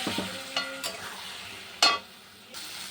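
Spices, ginger and curry of green banana and potato fry and get stirred in a pan, giving a steady sizzle with a few sharp scraping stir strokes, close and moderately loud, with no talk.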